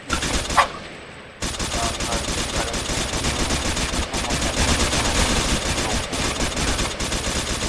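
Rapid automatic gunfire in the multiplayer game Multi Theft Auto, loud and close, in sustained bursts with brief gaps after a short quiet opening.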